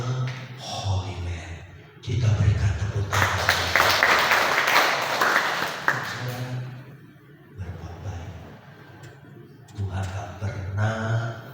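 A church congregation breaks into a burst of clapping that lasts a few seconds, with a preacher speaking before and after it.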